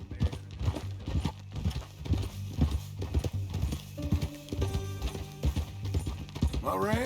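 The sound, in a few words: horse hooves in video game Red Dead Redemption II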